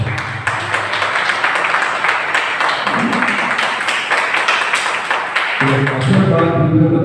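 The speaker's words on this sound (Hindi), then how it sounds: "जरा तालियों से बताइए।" An audience at a national two-day club convention in Sanjan, Gujarat claps in a dense, steady burst lasting several seconds, then the applause thins as a singing or speaking voice enters at the end.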